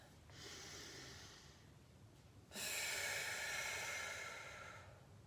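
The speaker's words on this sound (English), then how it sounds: "So you breathe in and then breathe out." A slow, deep breath drawn in and then released during a meditative breathing exercise, close and airy, the exhale louder and broader than the inhale, with no talking.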